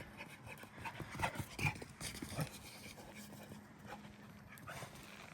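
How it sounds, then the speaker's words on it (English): A dog pants quickly and steadily at close range outdoors at night, with a faint whimper or two mixed into the breathing. "What a crazy dog."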